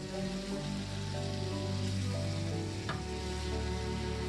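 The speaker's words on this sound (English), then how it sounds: "put our onions and immediately after our hot dogs in the pot. And we're gonna let them fry" Steady, dense sizzling of onions and hot dogs frying in a pot, continuous and close, with a brief clink partway through.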